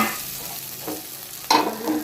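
Fried eggplant pieces are tipped into a mixed vegetable curry already sizzling in the pan, a soft sizzle broken by two sharper bursts of frying as the pieces land and are stirred, close and brief.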